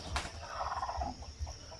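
Backyard chickens sheltered beneath a mango tree give a few soft, faint clucks and low murmurs, brief and close, with no talk.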